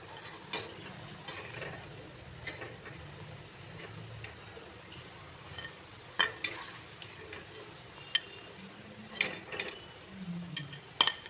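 Banana flower pakoras frying in hot oil, a soft ongoing bubbling sizzle broken by irregular scrapes and clinks of a utensil against the pan, close and moderately quiet.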